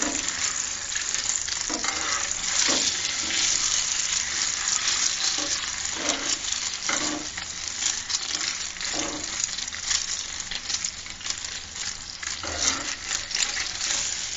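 Eggs frying with tomatoes in a pan for a Bengali egg bhuna, a steady close sizzle broken by repeated scraping stirs of a spatula, with no talking.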